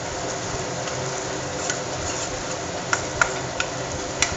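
Onions and turmeric fry in a pan for an egg and onion curry, with a steady soft sizzle as they are stirred. A few sharp spoon ticks against the pan stand out near the end.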